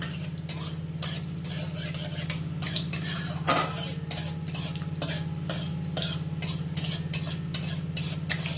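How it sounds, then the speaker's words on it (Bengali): Cumin seeds frying in hot oil in a wok, a steady hiss under regular clinks and scrapes of a metal spoon against the pan, about two strikes a second, close and fairly quiet. "এরপর 2 সেকেন্ডের মতো জিরেটাকে ভেজে নেব"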